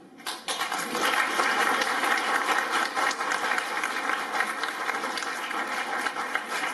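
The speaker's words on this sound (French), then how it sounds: "remercier le public d'être venu si nombreux de nous applaudir" Sustained applause from a concert audience in a municipal hall, a dense wash of many clapping hands that starts abruptly and stays loud and even for several seconds.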